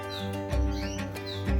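Canaries chirp in an aviary: a few short, sweeping tweets and calls close by, with brief bursts of wing flutter and thumps between them.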